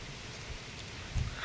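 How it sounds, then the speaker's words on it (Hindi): Light rain falls in a dense mountain valley, a faint, steady soft hiss of drops with one low thump near the end and no voices. "थोड़ा थोड़ा बारिश हो रहा है"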